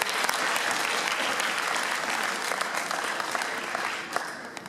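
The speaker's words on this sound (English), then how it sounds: "One more round of applause." A school marching band event's audience gives a round of applause, a steady wash of many hands clapping at moderate distance. It holds evenly throughout, with a few sharper individual claps near the end.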